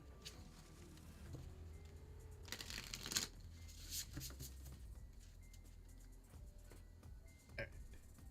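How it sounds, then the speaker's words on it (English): Oracle cards are shuffled by hand in a quiet close setting, giving soft papery riffles and taps with a couple of brief louder bursts, and no talk. "Give these Oracle cards a good shuffle."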